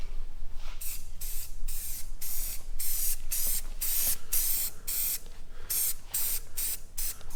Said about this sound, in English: I'm going to put on 2 light coats and make sure I got full coverage.